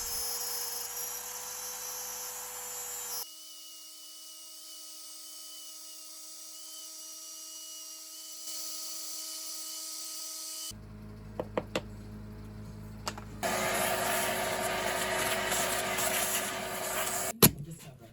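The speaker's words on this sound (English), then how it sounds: "I'm using an 1/8 inch bit in my trim router to do this." A trim router fitted with a 1/8 inch bit whines at high pitch while cutting a template, its tone shifting in steady stretches, then a harsher, broader cutting noise near the end with a few sharp knocks.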